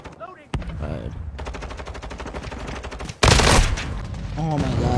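Rapid machine gun bursts from a first-person shooter video game with Molotovs and enemy UAVs, loud sustained automatic fire that cuts out briefly, then a sharper, louder burst of gunfire, with a voice talking over the end.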